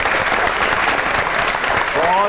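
A studio audience applauds at a Pakistani political comedy show, steady dense clapping that continues for a few seconds, with a voice speaking over it.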